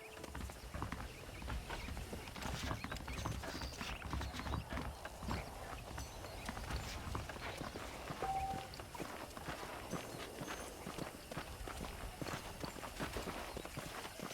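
Horse hooves in Red Dead Redemption clip-clopping at a steady walking rhythm, faint and even throughout with light ambient noise and no talking.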